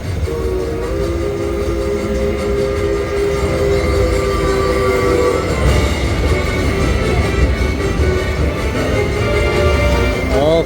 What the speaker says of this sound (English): Gold train bonus triggered.